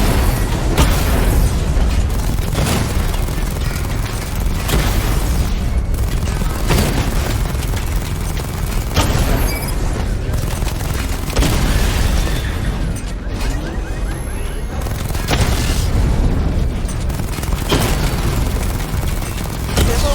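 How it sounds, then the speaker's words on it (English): Missile barrage explosions from the Batman Arkham Knight video game boom loudly in dense, repeated bursts with continuous rumbling and heavy impacts throughout. "Charge the missile barrage to level 2 to destroy up to 4 targets at once."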